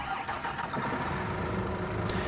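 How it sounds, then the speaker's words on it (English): A Scania bus engine in a bus driving game cranks and catches, settling into a steady mid-pitched idle rumble that continues without pause. "It's nice to hear the engine now back on the Scania."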